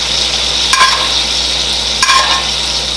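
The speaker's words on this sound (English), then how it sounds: "So tilt your pan and just baste." Portobello mushrooms sizzle steadily in a tilted, oiled pan as they are basted, with a close, even hiss broken by two brief scraping strokes of a spoon against the pan.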